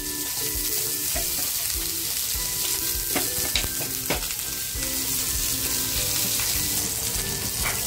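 Onion, chilies and garlic fry in hot oil, a loud, dense crackling sizzle that runs throughout with clinks and scrapes from stirring.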